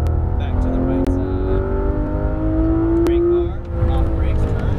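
A Ferrari F12 V12 engine pulls hard at full throttle on a race track, a loud, sustained rising roar heard from inside the car, with a brief dip at a gear change and a voice coaching over it.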